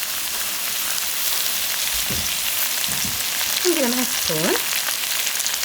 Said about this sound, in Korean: 충분히 볶아주세요. 양념이 잘 묻게.